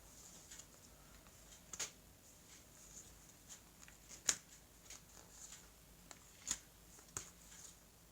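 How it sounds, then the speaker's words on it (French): Deck of tarot cards being cut and handled during a reading: faint, sparse papery taps and soft riffles with a few sharper snaps, quiet and close with no talking. "je vais couper le jeu et je vais donc recouvrir ces cartes"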